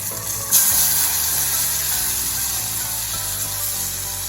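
Tomatoes go into a hot pan of spiced Kathiyawadi sev tameta curry with turmeric and garam masala, and a loud steady sizzle and frying hiss starts suddenly and holds throughout.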